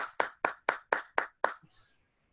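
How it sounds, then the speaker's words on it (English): Six distinct, evenly spaced hand claps ring out close and crisp, like a small group or single person applauding a seminar speaker, followed by a soft trailing sound and quiet. "I think we'll send another round of applause to William"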